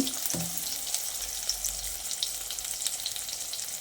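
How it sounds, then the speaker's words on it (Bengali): Brinjal slices seasoned with salt and turmeric fry in hot oil left from frying fish for a fish curry, a steady close sizzle with a few soft pan knocks near the start and no voices. "বেগুনটাকে ভেজে নিচ্ছি"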